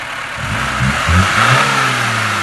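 A VAZ 2101 engine runs close up, rising and falling through a few quick revs before settling into a rough, steady idle, with no talk.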